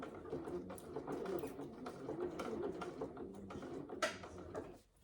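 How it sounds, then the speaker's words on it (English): A sewing machine stitches steadily through layers of fabric for a saddle bag, a close, rapid mechanical whirr with fine rattling that runs continuously and stops abruptly at the end. "hold the fabric down firmly while your machine sews through the layers"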